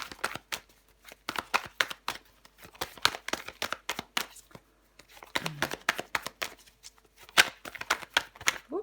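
Tarot cards being shuffled and laid down, a quick run of close, crisp riffling flicks and slaps in bursts, with a brief pause partway through and a soft voice murmuring at one point.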